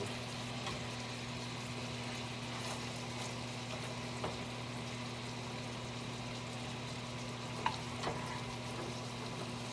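Bacon frying in a pan, a faint steady sizzle under a constant low hum, with a couple of small clicks and pops along the way.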